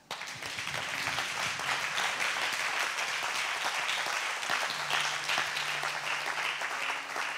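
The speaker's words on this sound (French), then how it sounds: "j'aimerais que nous acclamons cette famille Favre" A church congregation in Guadeloupe applauds a family, dense steady clapping that carries on evenly for several seconds with no talk over it.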